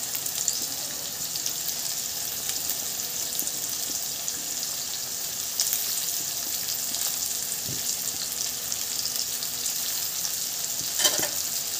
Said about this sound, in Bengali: আমার আলুটা একটু লাল লাল ভাজা ভাজা হয়ে গেছে।